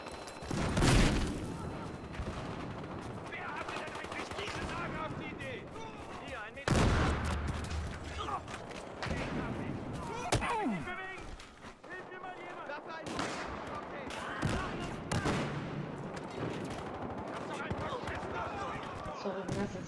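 Gunfire in the video game Battlefield Hardline, loud bursts of automatic shots and sharp single blasts in rapid clusters, with a voice talking over the game action.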